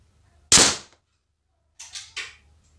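Air pistol shots from a Beeman P17 and a Weihrauch HW40, one loud sharp crack followed after a pause by three quicker, fainter snaps in close succession, with no talk.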